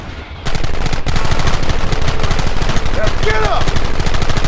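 Rapid gunfire in a Red Dead Redemption shootout, dense overlapping shots rattling in quick bursts, loud and close throughout, with someone shouting over it.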